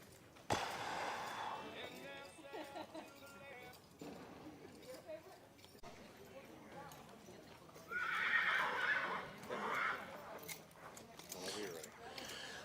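A Propulsion colt at a horse sale neighs loudly and repeatedly over several seconds, with clip-clopping hooves and people talking in the background.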